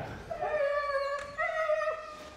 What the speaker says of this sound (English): Huskies are a notoriously noisy breed, and after their long flight, this pack are making themselves heard.